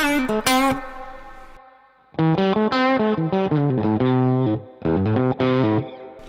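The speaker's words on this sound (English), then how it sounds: "That's the onboard reverb there, which is like a Fender twin reverb." Electric guitar playing bright chords and a riff through an amp, drenched in Fender Twin Reverb-style onboard spring reverb that trails off in the pauses.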